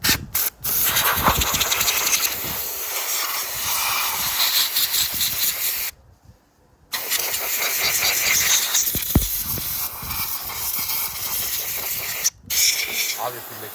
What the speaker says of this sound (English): So I'm gonna blow it out. I got some compressed air.